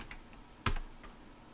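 A computer keyboard is struck softly as a full name is typed during an OpenBSD installation, a few faint key taps around one sharper, louder keystroke in a quiet room.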